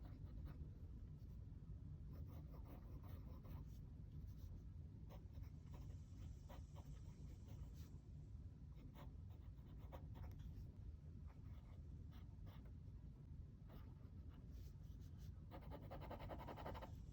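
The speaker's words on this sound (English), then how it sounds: "let me just do a little writing sample with this pen just so that you can see how it performs" An AliExpress fountain pen writes a sample on paper, giving a faint, continuous scratchy nib sound with short strokes over a low steady room rumble, and nobody speaks.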